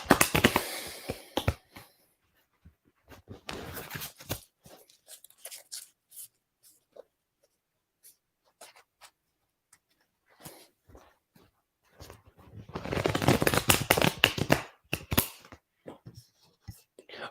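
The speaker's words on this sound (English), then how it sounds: "let me shuffle this card again, see what we can get" A deck of cards shuffled by hand in a quiet room: three short rustling, riffling bursts separated by long near-silent gaps with a few faint clicks.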